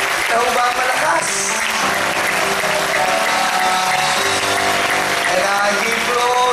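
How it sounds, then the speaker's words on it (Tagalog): A church congregation claps loudly and steadily at a worship service, the applause running under music and scattered voices for the full stretch. "Bigyan po natin ng malakas na palakpak ang Panginoon."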